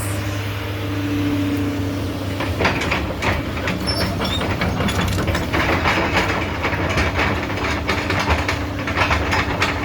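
Excavator working in a garden, digging dirt, a steady close diesel engine drone with low rumble and rattling, clanking bursts throughout.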